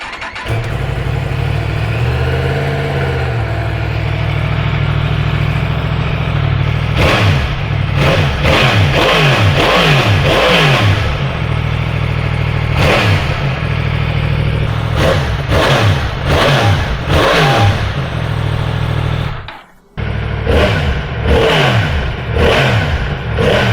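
A 2023 Yamaha MT-10 motorcycle engine with its exhaust servo removed idles, then revs repeatedly in sharp rising bursts, loud and close, briefly cutting out before idling again.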